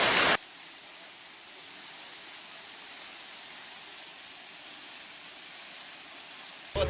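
A sacred waterfall in the jungle roars as a steady, broad rush of falling water. The sound is loud and constant, with a brief louder burst at the very start and end.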